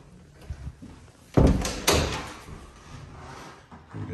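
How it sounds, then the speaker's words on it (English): A closet door in a bedroom of a two-bed apartment opens with a pair of close, solid thumps, then a quiet room settles, with no talking. "There is a closet behind this door as well."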